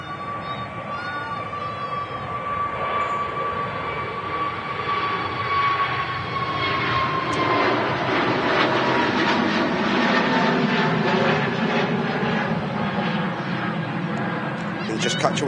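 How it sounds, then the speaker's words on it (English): An easyJet Airbus A320neo jet at Manchester Airport gives a steady, fairly loud broad engine roar that holds throughout, with a high whine near the start and a person talking over it. "easyJet A320 Neo. It's making its way down to Hurghada."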